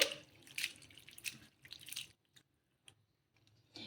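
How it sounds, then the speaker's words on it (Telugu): Water drains from washed flattened rice (poha) in a kitchen bowl: a few wet squishing, trickling bursts up front, then sparse soft drips in near silence, with a final splash. "ఇలా వాటర్ అనేది వేసేసుకొని ఒక రెండు సార్లు వాష్ చేసేసుకోవాలి"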